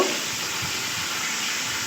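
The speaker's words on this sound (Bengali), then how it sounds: "কড়াইতে তেল বসানো ছিল গরম হয়ে গেছে তার মধ্যে মাছগুলো দিয়ে আমি লাল লাল করে ভেজে নেব" Fish pieces sizzling in hot oil in a wok, a loud, even hiss and crackle heard close and steady with no pauses.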